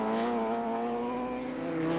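A 1982 Yamaha racing motorcycle with about 140 horsepower in a light chassis drives hard out of a corner at Oran Park, its high, steady engine tone climbing slightly as it pulls away, loud and close with no talk.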